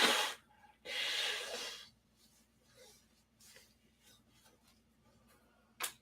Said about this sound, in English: Blow my nose once more and get a drink